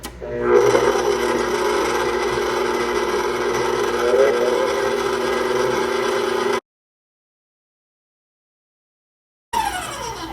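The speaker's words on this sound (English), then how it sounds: "I'm gonna mix this probably for about 5 minutes" Electric mixer whipping egg whites into a thick batter, giving a loud, steady whirring drone that runs for about six seconds, cuts to silence, then starts again briefly.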